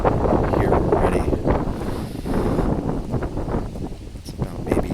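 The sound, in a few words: wind blowing at the beach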